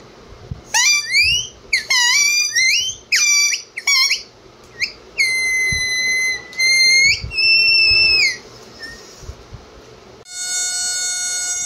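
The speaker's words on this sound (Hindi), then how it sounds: "ये सीटी है" A toy whistle that a dog plays with is blown in a run of sharp squeaky chirps and longer steady shrill tones, close and loud, ending in a sustained buzzing trill.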